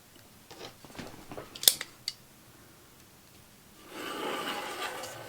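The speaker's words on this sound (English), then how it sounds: "I changed that blade, so now it's going to cut like butter" A freshly changed blade slices through paper for a junk journal, with soft snipping and rubbing sounds and a couple of sharp clicks, then a longer quiet hiss of cutting near the end, faint and close.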